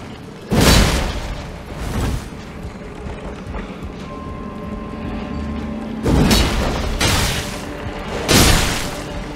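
Explosions in the Elden Ring video game, a burst followed by a few more blasts later on, loud and boomy against game music and effects, with no talking.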